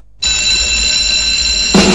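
An alarm clock from the Saved by the Bell opening rings suddenly after a brief silence, a loud, steady metallic bell tone that holds and then swells near the end.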